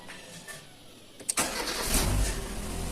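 A Fiat Palio 1.3 16v being started: a brief click and starter crank, then the engine catches and settles into a steady idle, close by with no talk.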